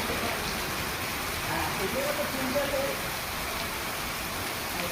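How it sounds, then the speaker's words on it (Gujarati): Steady light rain falls in Surat under cloudy skies, a soft even hiss of drops on surfaces with no talk, constant and moderately close throughout. "વરસાદના આગમનને લઈને ખેડૂતોમાં ખુશીનો માહોલ"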